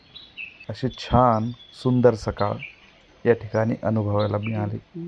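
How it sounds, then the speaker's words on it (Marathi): Faint morning bird chirps twitter in the background of a Konkan village while a person talks through most of the clip. "पक्ष्यांची किलबिलाट"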